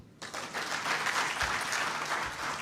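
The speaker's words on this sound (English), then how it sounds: "Let's give Waziri a round of applause." An audience at a national policy launch event in Nairobi claps, a dense, steady applause that starts abruptly and continues evenly for a couple of seconds, moderately loud with no speech over it.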